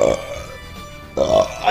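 A single loud, close burp with a gravelly vocal tone, broken by a brief pause before a second voiced belch-like burst.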